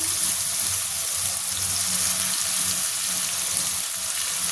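Poppy seed and mustard paste frying in a pan with onions for a Bengali folui fish curry, a steady close sizzle running without pause and with no voices.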